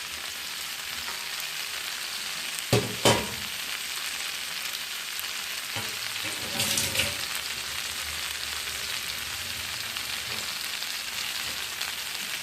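Food being stir-fried in a pan, a steady broadband sizzle running throughout with a few sharp clatters of the spoon and a brief louder burst of frying partway through, close by with no talking.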